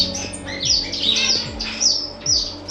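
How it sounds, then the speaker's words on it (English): Australian finches such as Gouldian, star and long-tailed finches chatter in an indoor bird room, giving repeated high chirps and short calls over a constant low background hum, near and clear. "Under them I have my Australian finches."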